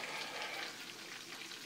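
A spoon stirs a thick loaded baked potato dip in a bowl, giving a soft, steady, wet scraping and squelching sound, close and fairly quiet, with no talking.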